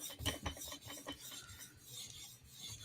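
A knife drawn across the stone of a TSProf Kadet sharpener gives quick, uneven rasping strokes that stutter slightly, close up with nobody speaking.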